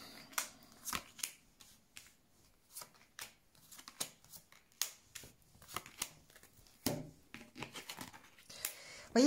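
Tarot cards shuffled by hand for a reading, heard as a run of sharp, brisk riffling and slapping bursts in an irregular rhythm, close and fairly quiet, with no voice over it.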